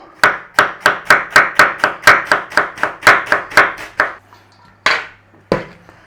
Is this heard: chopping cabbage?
yes